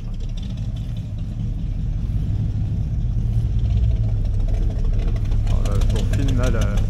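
A Ford Gran Torino station wagon idles as it parks at a classic car gathering, its low engine rumble steady and moderately close. Crowd noise sits underneath, and faint squeaky sounds appear near the end.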